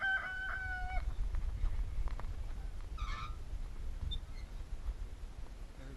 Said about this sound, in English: There's Mr. Rooster.